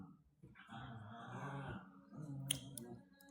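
A dog gives a piercing, screechy bark, with a few close, strained yelping and growling vocalizations running through the short stretch and a sharp snap-like click near the end.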